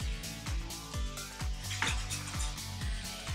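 Bacon and chilies sizzle in a pan while being stirred, with a steady frying hiss broken by rhythmic scraping knocks of the utensil against the pan, close and moderately loud, with no talking.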